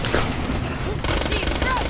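Rapid automatic gunfire from a video game weapon rattles loudly in a quick, dense burst that runs through the whole short moment.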